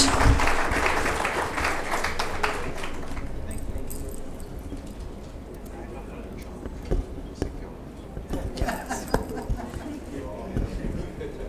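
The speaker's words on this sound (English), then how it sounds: "So probably he can expect a double applause from you all" An audience applauds at an Indian Merchants' Chamber awards ceremony, with a loud burst of clapping at the start that fades to scattered claps and light handling noises.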